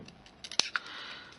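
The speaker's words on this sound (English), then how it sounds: "I'm just going to trim this up." Scissors make a few quick, close snips while trimming a paper heart, a sharp cut at mid-clip followed by a lighter one, against a quiet room.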